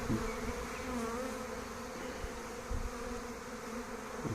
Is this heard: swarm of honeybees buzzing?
yes